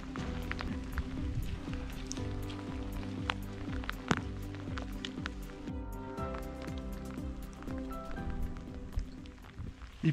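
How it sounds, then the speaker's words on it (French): Rain falling on hikers near the Col Vieux in the mountains: dense, irregular patter of drops close by, with hurried footsteps and a rustling hood or jacket mixed in. "Ça pleut, ça pleut!"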